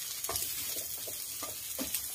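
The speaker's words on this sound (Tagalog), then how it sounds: "pwede na natin ilagay yung kalabasa. Ayan lang po lahat yan. Gisa-gisa lang rin po." Squash pieces sauté in a hot pan, a steady close sizzle broken by soft rhythmic scraping and stirring strokes about every half second, with no voices.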